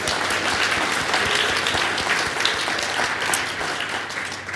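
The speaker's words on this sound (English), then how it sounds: "let's give them a well-deserved round of applause" A crowd applauds steadily, dense clapping filling the room at a fairly loud, even level with no talking.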